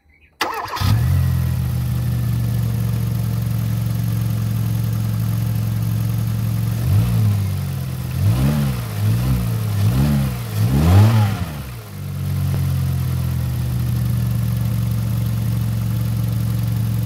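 A freshly overhauled Kia Rio engine runs at a steady, loud idle, then is revved several times in quick succession before settling back to idle.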